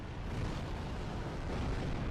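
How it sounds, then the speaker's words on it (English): A poisonous, fiery explosion in Dark Souls 2 during a dragon encounter, a dense continuous rumbling blast that fills the whole moment, steady and heavy without a break. "That poisonous, fiery explosion is so cool."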